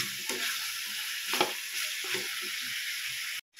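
Native chicken, already boiled for tinola, sizzles loudly in a pan while it is stirred, with a few sharper scraping bursts before the sound cuts off abruptly.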